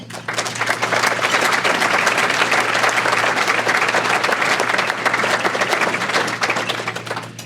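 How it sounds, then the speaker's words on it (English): Banquet crowd applauding a sergeant at a chamber of commerce annual dinner, sustained loud clapping from many hands that rises quickly, holds steady and begins tapering near the end. "Give the Sergeant another round of applause."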